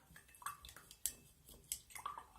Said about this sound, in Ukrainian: Фарбуємо і ще розмішуємо цукор